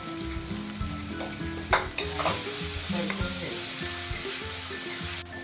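Onion-garlic masala and goda masala, with coriander and garam masala, sauté in a pan for a restaurant-style matar kaju curry, giving a loud, continuous sizzle with frequent scraping stirs and a few sharp clinks close by.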